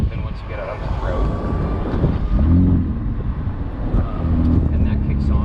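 A McLaren Artura with a 3-liter 120-degree V6 driving on the road, its steady low engine rumble rising and falling slightly, mixed with wind and road noise.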